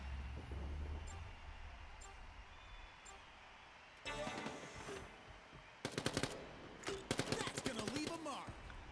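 Gunfire in Quake Champions during a 2v2 tournament match, with a low rumble first, then bursts of rapid automatic shots growing louder and denser toward the end.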